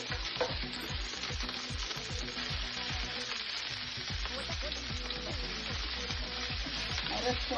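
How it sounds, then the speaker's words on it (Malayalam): Green chilies, curry leaves and red chilies sauté in hot oil in a pan, with a constant crackling sizzle and a regular rhythm of spoon scrapes and stirs throughout, close and fairly loud. "ഇതിലേക്ക് ഞാൻ പച്ചമുളക്, കരിവേപ്പില, ചുമന്ന മുളക് ഇട്ടിട്ട് എല്ലാം കൂടെ ഒന്നുകൂടെ വഴറ്റി വേണം"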